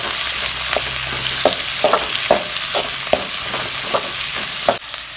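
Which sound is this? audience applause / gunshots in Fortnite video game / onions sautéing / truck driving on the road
onions sautéing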